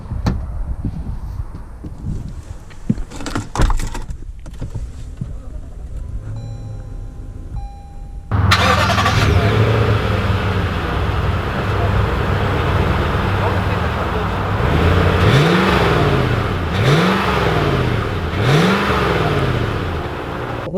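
A 2020 Lexus GX 460 Luxury SUV starts abruptly after a quiet stretch, then a steady engine drone builds and gives way to several rising revs as it pulls away and picks up speed.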